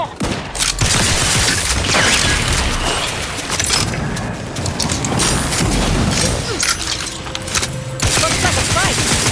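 A chaotic firefight in the video game Outer Worlds 2, with dense, loud gunfire, heavy booms and mechanical clatter running almost nonstop, briefly dropping out near the end before resuming.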